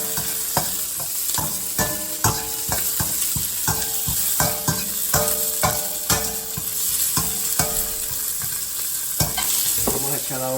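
Peas for chow mein are stir-fried in a hot pan, with a steady loud sizzle and repeated sharp clinks and scrapes of a utensil against the pan at an uneven rhythm, and no talk.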